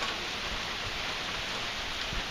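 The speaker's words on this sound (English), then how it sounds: "it is raining like crazy" Heavy thunderstorm rain pours down in a dense, continuous hiss, steady and close throughout with no talking.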